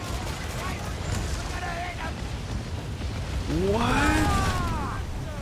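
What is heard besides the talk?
mortar explosions from enemy ships in Assassin's Creed Black Flag video game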